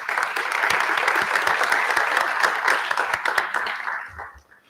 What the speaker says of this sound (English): How about a nice round of applause for all our new staff